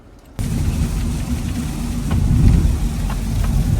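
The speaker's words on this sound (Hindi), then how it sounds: "बारिश इतनी ज़बरदस्त हो रही है" Heavy rain pounds steadily on a Land Rover Defender during a drive, starting abruptly and becoming a loud continuous roar with low road rumble beneath.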